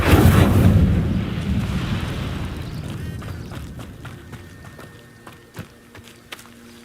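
A fire spell cast in Hogwarts Legacy, the Incendio blast, bursts out as a loud roaring whoosh that decays over several seconds, followed by a few faint scattered thumps and crackles.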